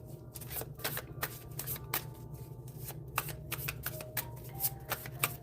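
Tarot cards being shuffled by hand during a reading, a steady run of crisp riffling and slapping card sounds at close range over a low constant hum, with no talking.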